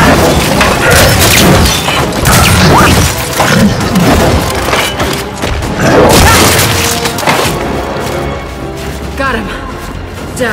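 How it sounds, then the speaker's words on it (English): Frag grenade blasts and heavy impacts from Gears 5 combat, several loud booms and crashes spread across the stretch, mixed with game noise and voices. "Throwing"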